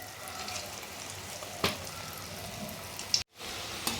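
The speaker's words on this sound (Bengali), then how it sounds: "আমি বাকিগুলো এইভাবেই ভেজে নিচ্ছি।" Chicken pieces deep frying in oil give a soft, even bubbling hiss at low level, broken by a couple of sharp clinks or taps and a brief dropout near the end.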